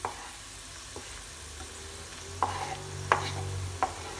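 Carrots frying in oil in a pan for bolognese sauce, a soft steady sizzle with a few sharp clinks of a utensil stirring, fairly quiet and close, no voices.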